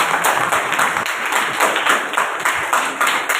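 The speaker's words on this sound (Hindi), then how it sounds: "जोरदार तालियां।" An audience at a religious gathering claps loudly and steadily, a dense burst of applause alone without speech for several seconds.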